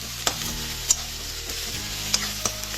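Fried onions stirred in a pan with a pinch of asafoetida hiss in a steady close sizzle, with occasional sharp clicks and scrapes of a spoon on the metal.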